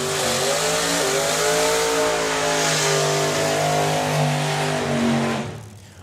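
A drag racing car engine at a drag racing event revs loud and close, its pitch climbing steadily under hard acceleration for several seconds, then cutting off sharply and fading.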